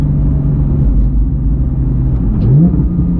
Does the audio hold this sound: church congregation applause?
no